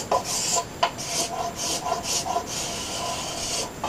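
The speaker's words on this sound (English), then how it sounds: "I like to scraper down the whole blade" A steel scraper drawn along a wooden bokken blade gives repeated rasping strokes, about seven, each a short dry scrape in a steady rhythm, close and moderately loud, with no talk.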